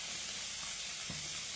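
Food frying in a pan over a medium flame, a steady soft sizzle and hiss running throughout at low level with no voices.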